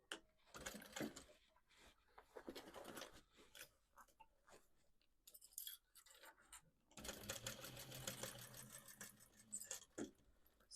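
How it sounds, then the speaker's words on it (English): A sewing machine stitches a denim tote bag made from old jeans, with repeated whirring runs broken by short pauses and clicks, ending in a longer steady stitching burst. "So you're just going to sew for a while and then pick everything up and drop it back down again."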